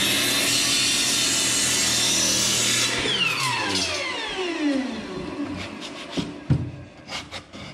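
Sandpaper rubs steadily across a block joint on a Lincoln Block pole barn conversion, a continuous scratchy abrasion for about three seconds that then thins into scattered lighter scrapes and taps.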